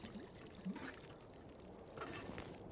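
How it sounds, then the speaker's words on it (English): Water pours and trickles steadily while coffee is made in The Long Dark survival game, a faint, continuous liquid sound with a couple of brief louder splashes. "I'm just going to make all this coffee."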